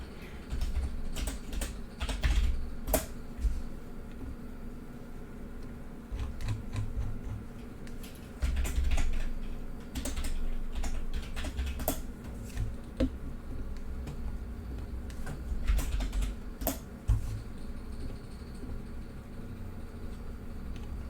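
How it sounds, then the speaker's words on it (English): Steady typing on a computer keyboard, close and clear, with irregular bursts of clicking keys continuing throughout and no talking over it. "You guys couldn't even see what I was typing."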